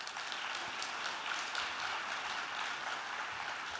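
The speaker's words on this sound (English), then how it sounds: "Would you also give them a round of applause?" Conference audience at a network meeting giving a round of applause, a continuous soft wash of many hands clapping, fairly distant and faint, with no voices over it.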